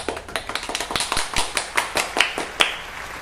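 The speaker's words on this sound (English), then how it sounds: "Let's give them applause." Applause from a small group, a quick run of separate claps and taps, close, fairly sparse and uneven in rhythm, with no talk.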